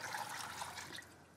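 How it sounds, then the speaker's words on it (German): Jameed, a fermented yogurt sauce, poured over cooked mansaf meat in a pot, giving a steady close liquid trickle and splash throughout. "das Jamid darüber zu gießen."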